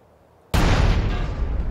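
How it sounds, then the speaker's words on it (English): A gas tank explodes after being shot in GTA: San Andreas, a sudden loud broadband blast that erupts after a moment of near silence and keeps roaring as a dense, sustained rumble. "Shoot the gas tank."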